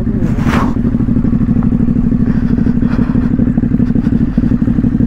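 A 2022 Ducati HyperMotard 950 SP motorcycle rides off-road through deep water, its engine a loud, close, steady low throb with a brief splashing burst near the start and clattering over the drone.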